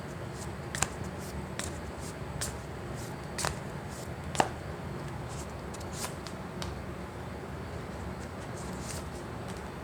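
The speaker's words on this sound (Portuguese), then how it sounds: "tirando 4 cartas do tarô, incluindo uma runa" Tarot cards are shuffled and drawn close by: soft riffling and sliding, broken by several sharp snaps as cards are laid down one by one.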